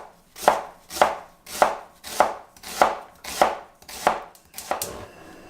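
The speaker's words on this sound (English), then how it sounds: "the only real prep is slicing the onion thinly." A knife slices thinly through an onion on a cutting board in eight evenly spaced, crisp chops, close and clear with no voices.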